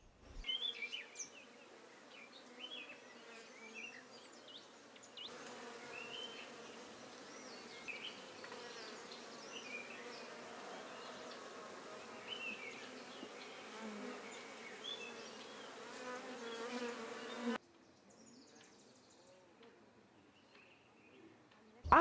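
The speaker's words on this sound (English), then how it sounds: "and then the bees will come." Bees buzz around beehives in Africa in a dense, steady hum, the swarm rising and falling in loudness, with faint bird coos in the background.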